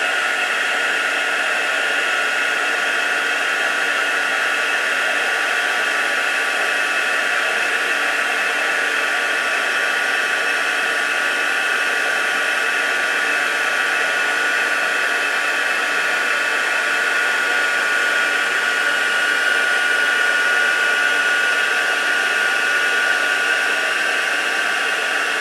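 A heat gun blows steadily to melt embossing powder at a crafting bench, a constant loud airy whoosh that holds for the whole stretch without pause or talk.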